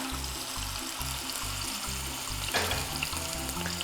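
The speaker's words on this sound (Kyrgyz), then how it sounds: "Балыгыбызды эки бетинен тең кызартып кууруп алабыз." Salmon sizzles and spits in a hot frying pan as it browns on both sides, a steady close crackle with soft rhythmic low thumps underneath and a brief louder flare of spattering partway through.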